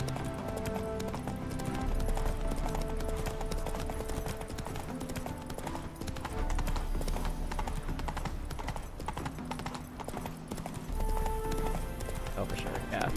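Horse hooves clip-clop steadily in a video game, a running rhythm of hoofbeats that carries through the whole stretch while a person talks over it.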